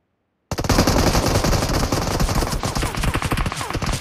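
Sustained rapid M249 machine gun fire in the mobile game BGMI, a loud, dense burst of rattling shots that starts abruptly and continues unbroken to the end.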